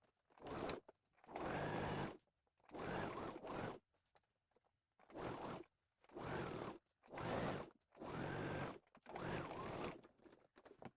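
A sewing machine runs in a series of short, quiet bursts, about eight stitching runs separated by silent pauses, while sewing a pair of shorts.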